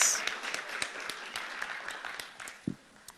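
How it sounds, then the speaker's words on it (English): A small audience at a sustainability debate claps briefly, a light patter of scattered hand claps thinning out with a faint voice at the end. "Yes, applause."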